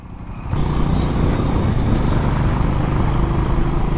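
A QJ SRC 500 motorcycle accelerates hard in second gear, its engine note jumping in after a quiet half-second and holding a loud, steady, rumbling drone to the end with no one talking.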